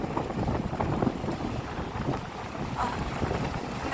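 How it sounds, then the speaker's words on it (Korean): Strong wind at rainy Gyeongpo beach in Gangneung roars and buffets the microphone in a loud, continuous rumble with gusty surges throughout. "바람 소리 들리시나요?"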